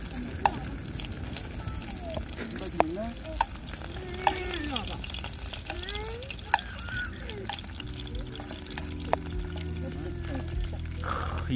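Food sizzles and fries on a wood-burning log stove during an outdoor fire-watching break, a steady crackling hiss running under people talking nearby.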